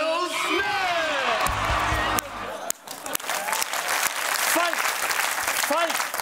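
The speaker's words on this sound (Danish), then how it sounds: "Folk i salen giver ham et delvist stående bifald" Oscars audience applauding Will Smith's win, with loud sustained clapping from a large crowd, scattered whoops and shouts, a brief dip, then the cheering swells again; a voice is heard over it.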